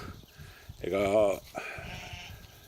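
Sheep bleat in a snowy farm pasture where they live outdoors day and night, one clear wavering bleat rising loudly near the middle, with softer animal sounds and faint background noise around it.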